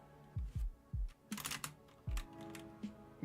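Computer keyboard typing during a Towercraft session: a few sharp, close key taps in short irregular bursts, with a brief clustered flurry in the middle, fairly quiet overall.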